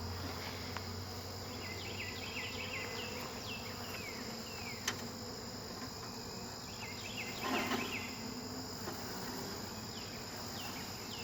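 A swarm of honeybees being shaken into a hive makes a dense, continuous buzzing hum with scattered individual insect whines, fairly quiet and steady throughout, with no voices.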